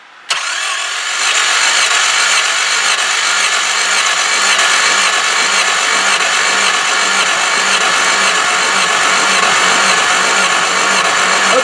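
An engine is cranked over by its starter in one long, loud, unbroken churning run, with a rapid mechanical rhythm that never catches. No voices are heard.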